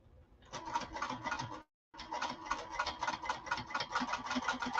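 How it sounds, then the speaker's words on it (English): A sewing machine runs a fast, steady stitching chatter while sewing fabric onto cork for a slouch bag, with one brief stop in the middle before it starts again. It is close and alone, with no talk. "So I'm stitching on the fabric piece, and they're very close together."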